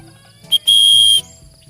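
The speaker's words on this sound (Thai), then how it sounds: "ลูกหวีดนะ" A loud, shrill whistle blown outdoors to call a pet parrot perched high in a tree: one short chirp, then a sustained steady blast of about half a second, alone over quiet background.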